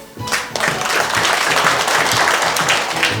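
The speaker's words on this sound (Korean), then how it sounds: "뜨거운 박수 부탁드립니다" Loud, dense audience applause fills the hall at an anniversary ceremony for a Busan filial-piety movement association, sustained and close throughout after guests are introduced.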